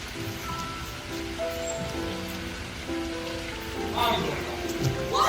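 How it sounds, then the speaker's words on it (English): Steady rain patters in a high school stage production of The Great Gatsby, a constant hiss that runs throughout beneath soft tones, with a louder rush of drops toward the end. "It's raining."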